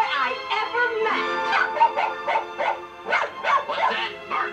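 A cartoon dog character called Bark Bark in the Toy Story 2 video game gives a string of short, yappy barks and whimpers in a quick irregular rhythm, close and clear.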